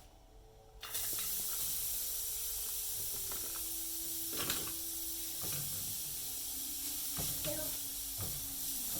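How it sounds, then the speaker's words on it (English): Grated carrots pan frying over low heat in a home kitchen: steady close hiss and sizzle throughout, with occasional soft scrapes and clicks of stirring. "I'm going to pan fry my grated carrots."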